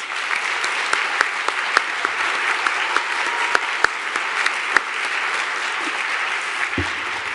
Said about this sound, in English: let's just give Bonnie and Stephen a round of applause.